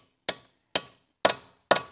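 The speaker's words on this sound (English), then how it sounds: "it's always worth knocking it in with a hammer, the socket, because it'll shock the bolt as well" Four sharp metallic hammer blows, evenly spaced about half a second apart, drive a socket onto a rusty bolt on a Citroën C6, each strike close and ringing briefly with no talk.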